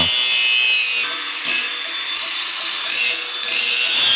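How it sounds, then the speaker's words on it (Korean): A power grinder works a fabricated steel H-beam during structural reinforcement for a remodel: a loud, hissing abrasive whine that runs nearly continuously, dipping briefly a few times as the tool eases off the metal. "제작된 빔은 연마 작업을 진행해줍니다"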